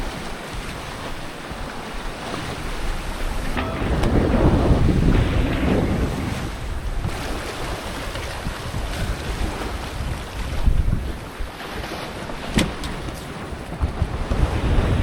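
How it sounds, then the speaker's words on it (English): A sailboat getting tossed in choppy, confused seas on the ebb out of Icy Strait, Alaska, with continuous rushing water and hull slaps under loud, gusting wind buffeting the microphone, surging in heavier bursts, no talk. "We're definitely getting tossed around in these confused seas with the ebb coming out of Icy Straits."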